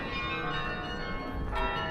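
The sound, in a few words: church bells ringing, Dom Tower, Utrecht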